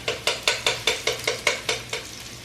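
A utensil scrapes and knocks rhythmically against a pot of onions browning in butter, about ten evenly spaced strokes over a faint sizzle, close and clear with no talking.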